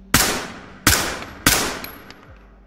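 Three loud, sharp rifle shots fired one at a time from a semi-automatic rifle in the tactical shooter Ready Or Not, each cracking close and then ringing out in a brief echoing tail, with no voices.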